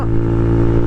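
Honda Monkey bike with a Yoshimura exhaust held against its rev limiter, a loud, close, steady engine buzz with tight harmonics lasting under a second.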